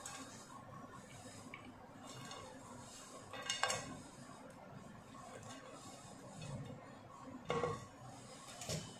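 Utensils clinking against a serving dish as homemade Chinese noodle bhel is served, a few faint scraping and clattering touches, two sharper clinks standing out from a quiet kitchen background.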